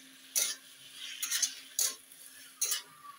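A utensil stirring potatoes in a cooking pan, making four short, distinct scraping strokes spaced apart against a quiet background hum.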